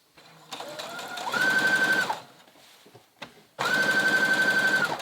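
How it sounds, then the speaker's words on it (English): A sewing machine runs a straight stitch along the outer line of swimsuit fabric in two loud, close bursts of rapid mechanical chatter, separated by a short pause with light handling noises. "I'm gonna go sew around that outer line, this outer line right here that we created."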